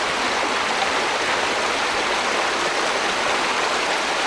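The Erecia, a trout river in Cantabria, flows in a steady, full rush of water, broadband and continuous at close range with no voices over it.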